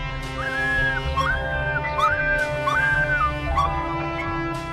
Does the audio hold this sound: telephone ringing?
no